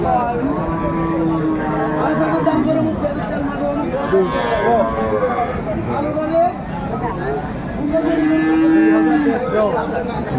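Several cows and calves moo loudly and repeatedly at a cattle market, long drawn-out calls overlapping with people talking nearby in a busy outdoor setting.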